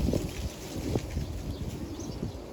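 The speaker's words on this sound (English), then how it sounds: "Windy day." Gusty wind buffeting the microphone outdoors, a continuous low rumble with uneven surges, no voices.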